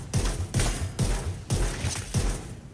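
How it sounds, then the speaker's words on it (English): Gunfire in the video game The Division 2: a steady sequence of about six loud, punchy shots roughly half a second apart, each one a sharp crack over a low thump, with no pauses for reloading. "So you just kind of keep shooting. You don't want to reload."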